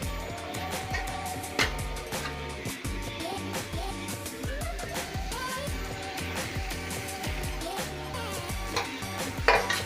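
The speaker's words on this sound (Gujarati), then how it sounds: "હવે આપણે એને પ્રોપર મિક્સ કરીશું" Noodles and manchurian get tossed and stirred together in a pan, producing a steady stream of scraping, clinking utensil strokes over a faint sizzle, close and continuous throughout.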